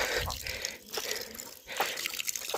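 Water rushing and splashing as it is shifted from one nearly full rooftop tank into the next in a Pahadi mountain home, with a loud, uneven gushing flow that surges and dips over a few seconds.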